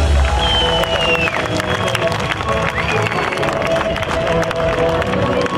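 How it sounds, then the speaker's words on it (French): Spectators at the Roc d'Azur mountain bike event in Fréjus clap and cheer loudly outdoors, a thick wash of applause with shouts and whistles over steady crowd noise. "J'aimerais qu'on applaudisse."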